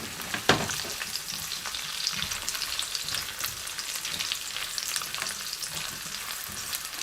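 Garlic frying in a pan for an octopus dish, a steady close sizzle with occasional stirring scrapes, continuous and fairly soft with no talk over it.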